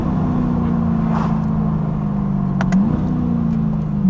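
A modified Chevrolet Corvette C8 engine runs loud and close, a steady low rumble with a brief rev rising and settling midway, with no talk over it.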